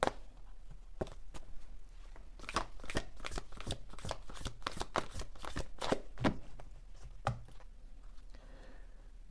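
Oracle cards are shuffled by hand in a rapid series of crisp riffling slaps and flicks, close and fairly quiet, continuing steadily for several seconds with no talking.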